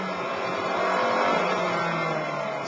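Lotus Esprit V8 turbo engine accelerating hard on the Brands Hatch circuit, a loud steady roar that swells slightly mid-way and holds throughout, with no talk over it.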